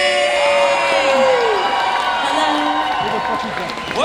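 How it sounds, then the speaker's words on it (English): Comic Con crowd cheers, whoops and applauds for Christina Ricci, loud continuous mix of shouts, high whoops and clapping, with a voice talking over it near the start. "show the love that you have for them in the form of whoops and cheers and applause"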